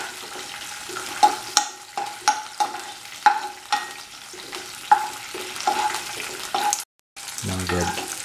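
Cashews and dry grapes frying in a pan over a low flame, with a soft steady sizzle broken by repeated stirring scrapes and clinks, close up with no talking.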